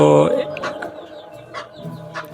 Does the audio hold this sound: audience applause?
no